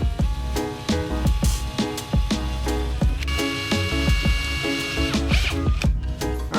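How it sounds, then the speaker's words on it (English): A power drill whirs in short repeated bursts drilling holes in a BMW M2, its motor pitch rising and falling, with sharp clicks and knocks between the runs. "So we'll drill 2 holes."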